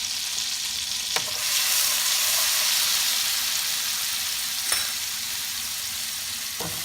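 Garlic and onion fry in a pan with a steady, bright sizzle that continues throughout, interrupted by a few faint clicks of stirring.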